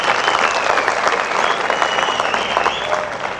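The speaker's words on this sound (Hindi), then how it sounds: "एक बार जोरदार तालियां" A crowd at a Hindi poetry recital, a kavi sammelan at an engineering university, gives loud, continuous applause, dense clapping that holds steady throughout with a faint whistle or cheer riding above it.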